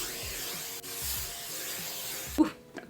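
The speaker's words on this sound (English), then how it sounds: "I'm gonna grab the Tresemme hairspray and just give it one nice spray all over." Tresemme hairspray gives one steady, close hiss over freshly curled hair for about two seconds, then cuts off, followed by faint handling sounds.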